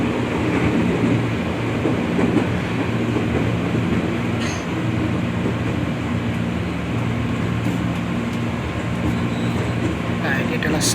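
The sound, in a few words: KRL commuter train running, Bogor Line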